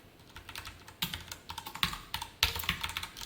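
Rapid, uneven key clicks on a computer keyboard while JavaScript code is typed during a web publishing lesson, close and clear with bursts of keystrokes and no talking.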